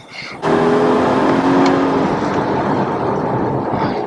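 A 2021 Volvo V60 T8 plug-in hybrid wagon accelerates with a steady, loud engine and road roar from inside the cabin, holding strong throughout after a brief quieter start.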